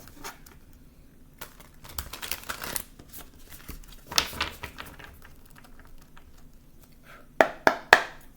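Soft riffling and tapping of tarot cards being shuffled, irregular bursts with quiet gaps, ending in a few sharp snaps close by.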